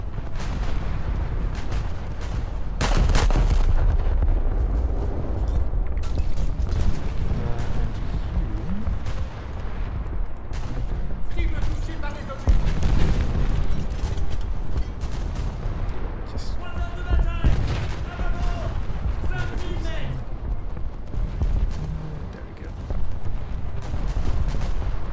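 Naval gunfire in a warship battle video game, with heavy cannon booms and rumbling blasts firing almost without pause over a dense roar of battle.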